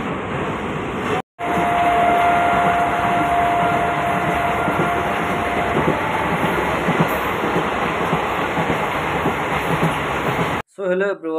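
A train arriving, a steady loud rumble of rail cars with clattering wheels and a long high squeal, continuous and close, with brief cuts at the start and end and no voices.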